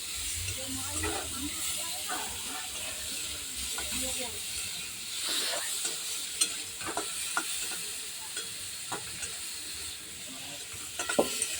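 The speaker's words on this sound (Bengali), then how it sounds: "একটু হলুদ দেবো সামান্য, দিয়ে চিংড়ি মাছটা ভেজে নিই" Prawns seasoned with salt and a little turmeric fry in hot oil, giving a steady sizzle and hiss with occasional sharp spits and clacks of stirring, loud and close throughout.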